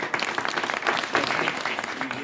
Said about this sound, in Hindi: ताली बजा दीजिए।